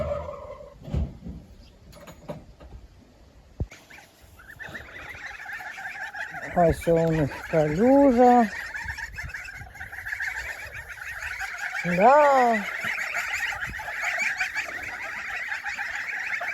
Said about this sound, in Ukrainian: Вже отакі гусенята.